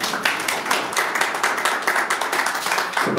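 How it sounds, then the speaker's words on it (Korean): Sustained applause from an audience at an award ceremony of the Atlanta chapter of the Korean Peaceful Unification Advisory Council, a dense, steady patter of many hands clapping at a moderate distance with no one speaking over it. "박수 부탁드립니다."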